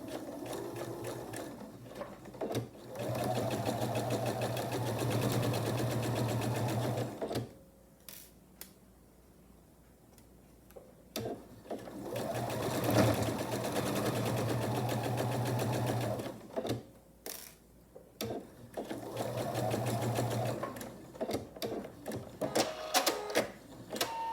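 A sewing machine stitches a quarter-inch seam on a pinned sailboat quilt block, running in three long steady bursts separated by quiet pauses and brief handling noises.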